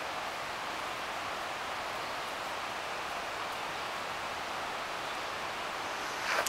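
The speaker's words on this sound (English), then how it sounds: "And you can hear the river in the background." A river flows through the Smoky Mountains forest as a steady, broad rushing wash of water, constant and even throughout with no talk over it.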